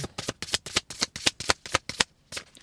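A deck of cards is riffled and tapped in quick, crisp bursts, about a dozen rhythmic flicks close up, then a short pause and one more.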